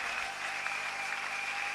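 Church congregation applauding and cheering during a worship service, a steady dense wash of clapping that holds at an even level throughout.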